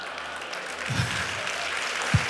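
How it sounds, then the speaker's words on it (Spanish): A church audience applauds during a Spanish-language service, with a moderate, steady wash of clapping and a couple of low thumps near the mic. "Le damos un aplauso al Rey de Reyes y Señor de los Señores."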